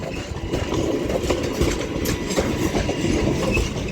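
British Rail Class 323 electric train moving through Manchester Piccadilly station, a steady rumble with clacking wheels and motor hum, fairly close and continuous, with no talk.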